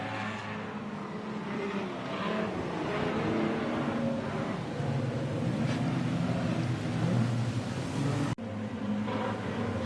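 Street stock race cars roar around Hobart Speedway in a continuous, loud engine drone with revving rising and falling as they battle for the lead, the sound briefly cutting out near the end.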